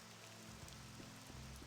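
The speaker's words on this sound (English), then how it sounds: "if it would stop raining, for God's sakes" Steady rain in the video game The Elder Scrolls III: Morrowind, a constant even hiss of falling water with soft patters throughout, heard alone at moderate level.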